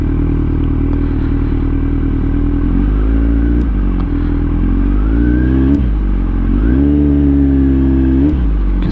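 A Kawasaki Z900 motorcycle rides through the city, its engine and exhaust droning loud and close, with several rising revs and gear changes marked by brief drops and climbs in pitch.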